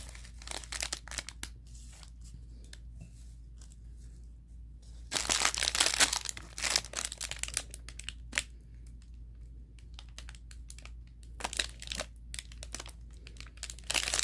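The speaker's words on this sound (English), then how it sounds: "I take the double-sided tape" Double-sided tape handled up close while crafting a body butter gift mug: crisp crinkling and short tearing rustles come in scattered bursts, busiest in the middle stretch, with no one speaking.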